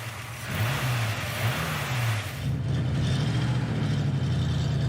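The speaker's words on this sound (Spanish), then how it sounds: "es espectacular el sonido de este motor V8" A 1974 Ford F-100 with a V8 and stock exhaust, close by, rumbles deeply and revs up and down in a few swelling blips before holding a steady, throaty run.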